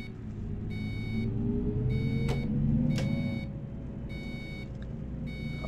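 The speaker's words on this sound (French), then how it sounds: "Ah, il fait un boucan le clignotant" Bus turn signal in Euro Truck Simulator ticking in a slow, steady rhythm of bright clicks over a continuous low engine rumble inside the cab, with a faint electronic tone accompanying each tick.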